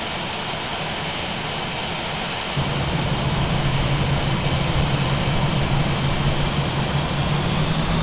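Airbus A320 jet engines spooling up for takeoff on runway 34 at Lugano, a steady broadband roar that swells and thickens about two and a half seconds in, then holds loud and constant with a low hum.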